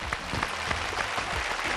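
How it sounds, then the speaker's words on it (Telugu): A studio audience on a Telugu television game show gives a brief burst of steady, even applause. "క్లాప్స్."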